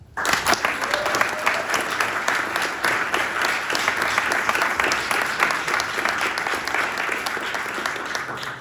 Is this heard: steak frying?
no